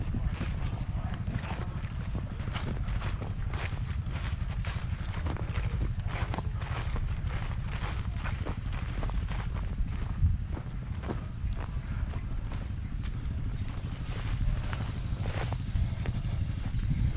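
Horses walk at a ploughing match in the Kent countryside, their hooves clopping in a steady uneven rhythm over a constant outdoor rumble and faint background voices.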